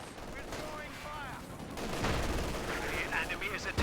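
Incendiary mortar barrage in Company of Heroes 2, a dense roar of shell impacts and crackling fire that swells louder midway, with faint talk and game sounds underneath.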